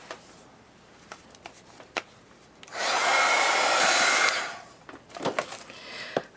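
A hair dryer blows for about two seconds, drying a mixed media pumpkin artwork sprayed with isopropyl alcohol, set between light scattered handling clicks and taps.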